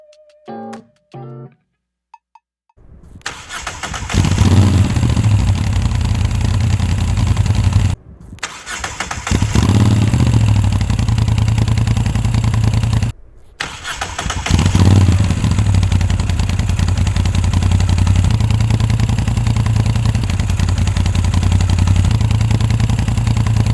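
A Moto Guzzi V7 III motorcycle fitted with a Rapid Bike Easy module starts up and settles into a loud, close exhaust idle with a deep, throbbing beat, cut by two brief breaks before it resumes.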